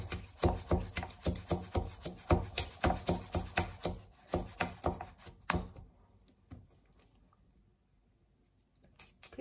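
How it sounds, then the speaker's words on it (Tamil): Green chillies being chopped into small pieces with a knife for a Sri Lankan spicy roti, a quick steady run of close, loud chopping strikes that thins out into a few scattered taps and near silence. "ரெண்டா கீறிட்டு கட் பண்ணீங்கடா கொஞ்சம் குட்டி குட்டியா இருக்கும்."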